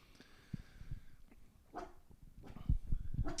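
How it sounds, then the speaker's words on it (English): A dog barks a few times at a passerby, scattered short yelps and barks against a quiet room, moderately close, with some faint background noise between them. "Quit the barking. Quit the barking."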